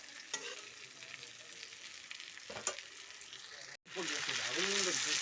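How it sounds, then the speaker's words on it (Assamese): Bitter gourd fries in a pan with a steady hiss and sizzle, broken by a couple of stirring scrapes, then a brief cut before louder frying continues with a voice speaking over it. "এয়া চাওক তিতা কেৰেলাখিনি ভাজি হৈ গ'ল।"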